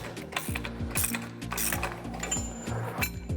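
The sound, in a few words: torquing STATS connector bolts with a ratcheting wrench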